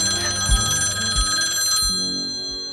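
A telephone bell rings loudly and close, a bright metallic trill sustained for almost two seconds, then cut off and left to fade, with soft low thumps beneath it.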